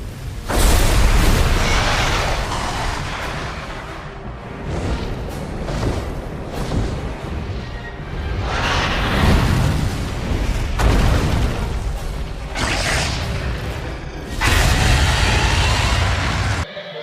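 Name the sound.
Rathalos fire wyvern in Monster Hunter video game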